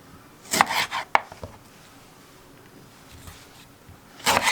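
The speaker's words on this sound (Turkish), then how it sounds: "Böyle kabuğuyla birlikte doğruyorum." A knife chops banana peels against a board in a few quick bursts, then goes quiet, then resumes with a short flurry of cuts close by.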